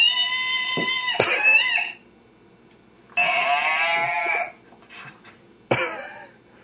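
Toy noise ball gives out a few electronic animal-like calls, a bleating or mooing tone, in separate bursts with quiet gaps between them.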